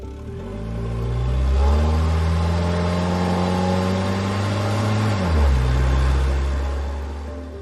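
A car engine revs and rumbles close by, its pitch climbing then dropping and rising again, a loud continuous vehicle drone with no voices.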